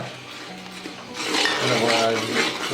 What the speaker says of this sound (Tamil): வாங்கின கஜுவை அதை சேர்த்து கலப்போம்.